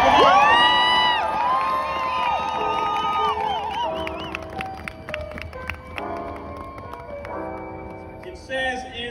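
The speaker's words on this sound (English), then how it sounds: "Give yourselves another round of applause." A crowd at a stop-the-mandate rally cheers, whoops and whistles in loud, shifting bursts, with shouting voices mixed throughout.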